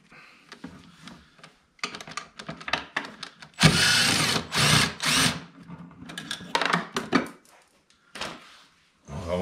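A power tool works a nut off a Polaris RMK SKS snowmobile in a series of short whirring bursts, with one longer, louder run in the middle and mechanical clicks and clatter in the gaps.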